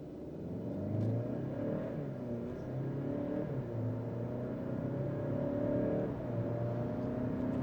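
2025 Hyundai Santa Cruz accelerating from a stop at full throttle on an open road, a steady engine drone rising in pitch through the gears, heard from inside the cabin with no talking.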